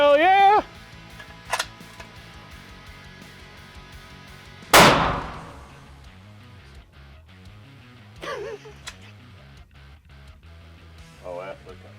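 A single sharp, loud gunshot from a Sig Sauer Cross Magnum Sawtooth rifle, close by, with a brief ringing decay, heard amid people talking before and after.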